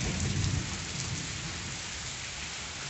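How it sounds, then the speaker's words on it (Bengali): Heavy monsoon rain pours steadily nearby, a dense continuous hiss of drops on surfaces with a low rumble at the start, no voices over it. "এই দেখো, খুব সুন্দর বৃষ্টি পড়ছে"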